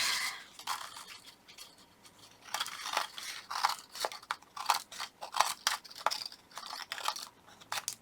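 Scissors snipping a paper strip for a scrapbook layout, a series of quick, close, crisp cuts in irregular bursts with faint rustling of paper between them.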